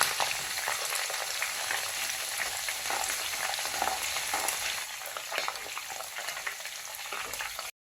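Cut red and green chillies frying in hot oil in a pan for homemade mango pickle, a steady close sizzle and crackle that runs unbroken throughout, with occasional stirring.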